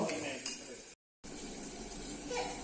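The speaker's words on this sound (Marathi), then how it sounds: "आपलं जे वाटण असतं ना खोबऱ्याचं कांद्याचं तेच मी घालून अगदी व्यवस्थित परतवून घेते तेल सुटेपर्यंत" Coconut and onion masala paste sautéing in oil for a mixed-vegetable curry, a quiet steady sizzle with light stirring, briefly cut by a gap of silence.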